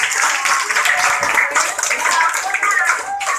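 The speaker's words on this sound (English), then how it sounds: "Another round of applause" Students at a SEAMEO school debate clap for their classmate Nicole, a loud, continuous round of close handclapping with a brief dip near the end.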